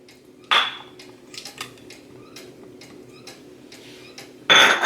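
A spoon works through vegan, oil-free spice cake batter with chia egg in a bowl, making scattered soft clinks and scrapes, with sharp loud knocks against the bowl at the start and end.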